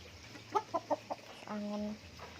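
Chickens on a farm field clucking in a short series of four quick clucks, then a longer sustained call, fairly faint and close against a quiet outdoor background.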